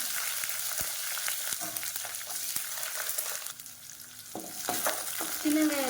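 Whole small shallots dropped uncut into hot oil already crackling with mustard seeds and curry leaves for idli sambar, a steady loud sizzle with stirring scrapes and brief pops that dips midway then swells again.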